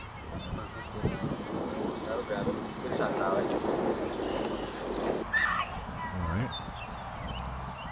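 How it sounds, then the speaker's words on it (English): Strong wind buffets the microphone on an outdoor golf course in a loud rumbling roar, easing after a few seconds; a voice speaks beneath the gusts. "It's pretty windy though."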